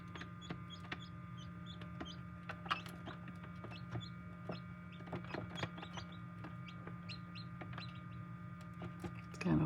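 Faint, high chick peeps and soft clucking come from a full egg incubator on a chicken farm while a chick pushes out of its shell. A constant mechanical hum from the incubator runs underneath.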